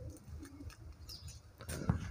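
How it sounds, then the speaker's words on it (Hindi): Pigeons cooing somewhere overhead in a village home, a soft, low murmuring coo that rises briefly near the end over faint background noise. "एक कबूतरों ने यार ऊपर में घुटुर घुटुर करके पूरे दिन दिमाग खराब करते हैं।"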